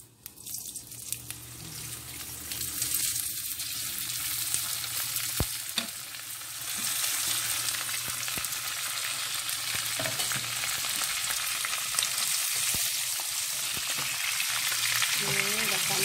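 Oil heats and sizzles in a pan while chicken curry is being prepared, a steady close frying hiss with faint clinks and no talk.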